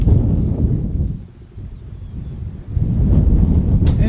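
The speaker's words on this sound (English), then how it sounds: "And here comes the wind again." Gusty wind buffets the microphone outdoors at a rifle shooting range, loud rumbling bursts that ease for a moment and then surge back.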